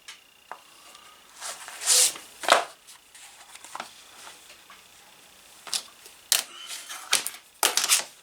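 Leather cut with a punch or blade at a workbench: scattered sharp snips and thuds, some louder bursts, separated by quiet gaps, close and without talking.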